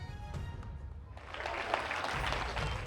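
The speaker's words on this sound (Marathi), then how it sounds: "यांच्यासाठी जोरदार टाळ्या वाजवा" An audience claps at a cultural event in Sinnar, Nashik, with fairly faint applause swelling after about a second and continuing to the end.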